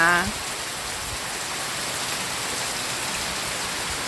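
Heavy midday rain pours steadily with wind, a dense, even roar of drops hitting surfaces that fills the whole scene from close by. A brief voice is heard at the very start.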